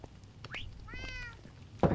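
Cats meowing in Minecraft Bedrock Edition: a rising mew followed by a longer, wavering meow, both at moderate distance over a low ambient hum, with a brief louder sound at the very end.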